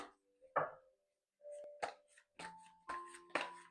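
Tarot cards are shuffled by hand in close, quiet bursts: a series of short crisp riffling slaps and flicks with brief pauses between them.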